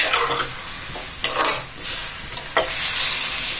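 A spoon stirs vinegar into a dish cooking in a pan over a steady sizzle, with a few scraping strokes and a sharp clink against the pot partway through. No one speaks.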